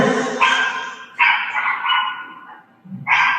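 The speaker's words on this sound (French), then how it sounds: "il y a quelqu'un qui a un chien quelque part, qu'il faudrait fermer le micro" A dog barks repeatedly in the background of a live stream, several sharp barks in short bursts with brief pauses between them.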